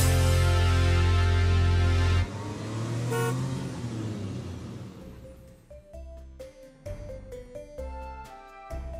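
Cartoon car sound effects: a loud engine roar and horn toot at first, then a quieter driving rumble joined by a rhythmic series of short honks and bright musical beeps, with no talk.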